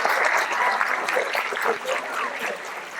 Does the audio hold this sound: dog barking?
no